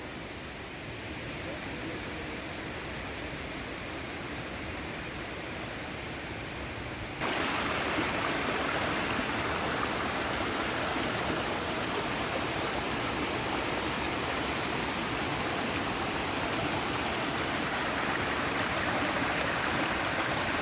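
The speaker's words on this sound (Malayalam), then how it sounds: "സ്ഥലത്തിൻ്റെ ഒരു സൈഡിൽ കൂടെ തന്നെ ചെറിയൊരു വലരിയാണ് കേട്ടോ" A small year-round stream runs along one side of a farm property, giving a steady rushing flow that grows noticeably louder and closer partway through, continuous with no talking.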